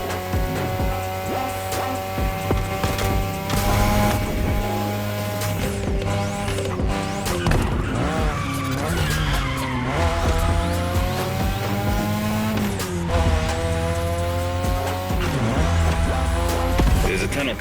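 A 2002 third-generation Mazda RX-7 with a rotary engine in the racing game The Crew Motorfest, its engine wailing loudly and continuously with tire squeal and skidding as it takes corners at speed.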